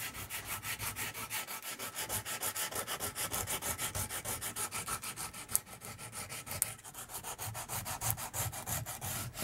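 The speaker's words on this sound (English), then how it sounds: "It is just literally just rubbing it down, keeping the actual curves." Curved wood is rubbed down by hand with sandpaper in fast, even back-and-forth strokes. The rhythmic rasping is quiet and close, with two small knocks partway through.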